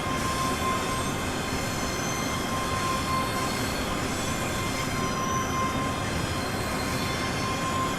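Steam locomotive, the Flying Scotsman, on the Glasgow–Dunblane route in Train Sim World, running steadily with a continuous dense rumble of wheels and rail noise, a constant tonal whine and faint squeal throughout, with no talking.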